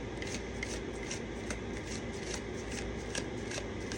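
Tarot cards are shuffled continuously and close up, a dense stream of papery riffling and flicking with no pauses.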